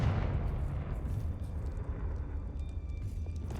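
A Confringo blasting spell goes off in Hogwarts Legacy, a deep rumbling blast with a rolling low boom that fades into crackling debris, steady and moderately loud.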